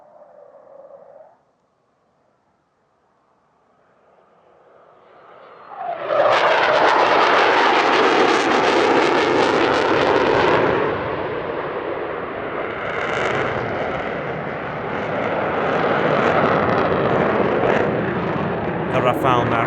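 A French Navy Rafale Marine fighter jet at an airshow, starting as a faint distant whine, then bursting into a loud, roaring, crackling jet blast that holds for several seconds before easing to a sustained rumble.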